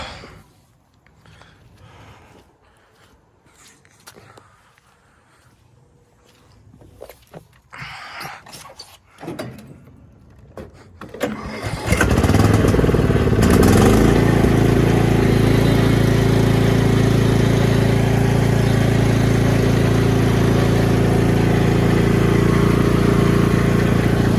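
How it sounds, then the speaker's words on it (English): A lawn tractor being driven free after getting stuck starts up after quiet rustling, then its engine runs loud and steady, droning close by to the end. "Let's see if I could drive the tractor off."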